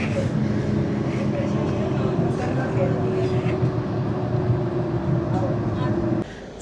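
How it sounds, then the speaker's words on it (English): A tram crossing a bridge over the Danube in Austria makes a continuous rumbling, rattling roll with faint clanks, and indistinct voices sit in the background until the noise drops off near the end. "Just going over the Danube on the tram to the Hauptstraße"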